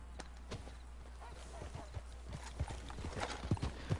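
Horse hooves clip-clop on the ground in Red Dead Redemption 2 Online, an uneven walking rhythm that grows louder and closer toward the end, with no talking.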